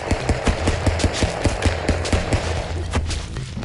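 Rapid bursts of gunfire from a video game gun crackle in a fast, even rhythm, loud and close, with no talk over them.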